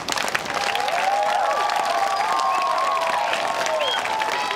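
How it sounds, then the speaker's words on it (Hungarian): An outdoor crowd of onlookers applauds a school students' dance performance with sustained, even clapping and some cheering, while higher voices call out over it throughout. "a végén pedig óriási tapsal zárták a produkciót"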